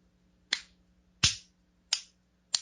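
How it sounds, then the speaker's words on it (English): Four sharp hand claps spaced roughly evenly apart, each a crisp, close percussive crack with a quick decay, standing alone over a faint low background hum. "That's me clapping in agreement with you."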